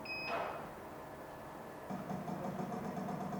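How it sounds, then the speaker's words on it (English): The salt feeder motor on a RoboPop 60 popcorn machine runs with a faint, steady low hum, a brief electronic beep at the start and a slight rise in drone partway through. "Salt feeder motor."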